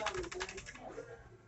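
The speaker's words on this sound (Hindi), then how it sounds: "सबसे पहले आप यहाँ पे अपना पासवर्ड डालिए, कुछ भी" A password is typed on a computer keyboard: a quick, close burst of keystrokes that thins out toward the end, with a faint voice underneath.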